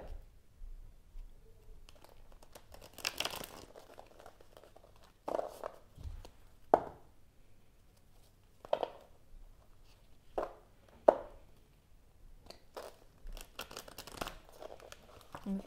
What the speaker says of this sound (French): On me dit de brasser encore une fois.